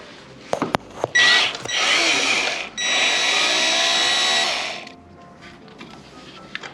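A power drill or driver runs in two sustained whirring bursts, spinning out the fan motor's fixing screws on an LG TwinWash drum washing machine, with a few clicks of handling before and after, close up and loud.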